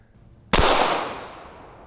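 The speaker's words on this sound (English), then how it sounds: "start with the 9mm, since it's probably the most common handgun caliber in the world, and we're shooting it out of the Canik TP9 SFX" A single 9mm shot from a Canik TP9 SFX pistol fired at body armor outdoors: one loud, sharp crack followed by a long fading echo.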